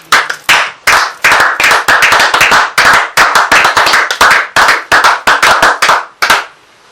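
A church congregation claps together in acclamation, a run of sharp, fast, slightly uneven hand claps that starts and stops in bursts, loud and close with no talk, then stops abruptly.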